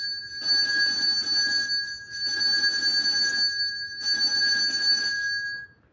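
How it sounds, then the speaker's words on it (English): A bell rings in three sustained bursts, each a steady bright tone lasting about a second and a half, separated by short silences. "there's the bell"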